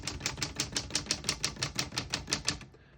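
Typing on a 1947 Smith-Corona Sterling portable typewriter: a steady run of about fourteen crisp, evenly paced key strikes, close and clear, with nobody speaking.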